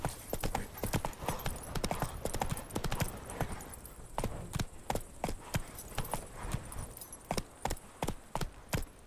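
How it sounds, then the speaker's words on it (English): Horse galloping in The Witcher 3: Wild Hunt, rapid rhythmic hoofbeats pounding steadily and close throughout, with faint game ambience underneath. "Run, Roach"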